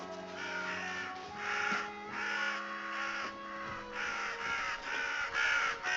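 Crows cawing repeatedly in the video game Reka, a rhythmic series of harsh, fairly loud caws in bursts over a steady tonal background hum, with no voices.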